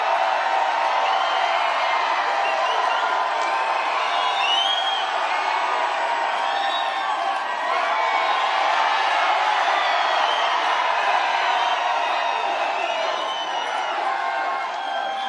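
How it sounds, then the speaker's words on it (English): Crowd at a presidential campaign rally in Claremont, New Hampshire cheering and whooping continuously, a loud, dense roar filling the hall. "What a crowd."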